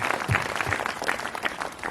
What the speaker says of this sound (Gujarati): એમનો પણ જોરદાર તાળી પાડીને આભાર માનો